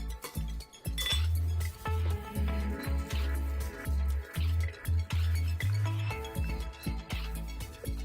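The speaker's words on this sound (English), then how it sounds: "Put some of the crushed ice in." Crushed ice poured into a glass while making a whiskey sour, giving a run of bright clinks and rattles over a steady, pulsing low background.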